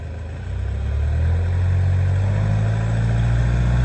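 A car engine revs up from idle and is held steady at about 2,000 RPM during a diesel particulate filter clean, a constant low drone rising then holding, close and alone.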